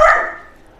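A single sharp, loud bark from an excited puppy, close by and quickly fading.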